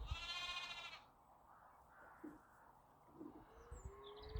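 A sheep bleats once, loud and wavering, in an outdoor garden during a yoga session, followed by quieter distant animal calls and faint bird notes over a soft background hush.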